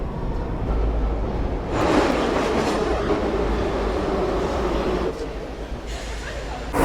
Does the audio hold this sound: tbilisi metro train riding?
yes